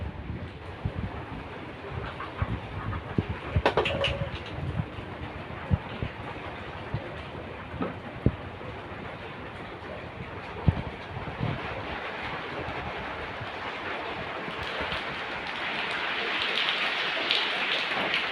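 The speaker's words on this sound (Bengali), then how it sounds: "বৃষ্টি পড়ছে।" Rain falling on a house roof, a steady wash of drumming with scattered louder knocks and clatters, growing a little heavier near the end.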